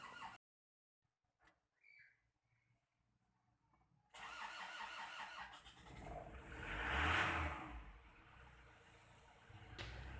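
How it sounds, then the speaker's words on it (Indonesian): An Isuzu diesel engine under liner repair cranks after near silence and several faint clicks, then catches and settles into a steady, loud idle with a brief swelling rev. "Nah sekarang kendaraan sudah hidup"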